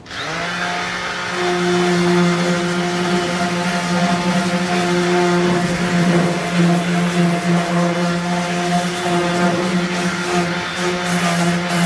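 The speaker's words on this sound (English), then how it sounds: "I'm gonna take that sander and I'm gonna hit the high sides of the antler" A palm sander grinds against the high sides of an elk antler, giving a steady, close, droning whine with a constant pitch and a slight gritty roughness as it works the surface.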